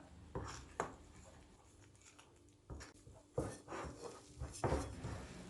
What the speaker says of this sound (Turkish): Hamurumu elimle yoğurmaya başladım.